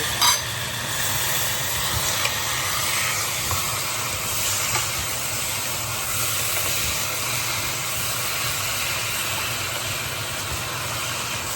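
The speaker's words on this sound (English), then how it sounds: "Just cleaning out the steam." Steam hisses steadily from a pot of Vietnamese beef stew (bò kho) cooking after water is added, a soft continuous broadband hiss over a faint low hum, quiet and unbroken for the whole stretch.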